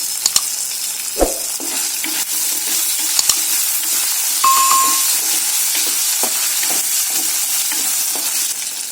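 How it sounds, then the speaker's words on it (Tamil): Onions sauté in oil in a pan for sundakkai vathal kulambu, a steady, close sizzle with intermittent stirring scrapes and a few sharp clinks of a utensil against the pan, no talking. "வெங்காயம் பாதி அளவு வதங்கினதுக்கு அப்புறமா இது கூட ஒரு 20 பூண்டு பல் எடுத்து வச்சிருக்கேன், அதையும் சேர்த்துக்கலாம்."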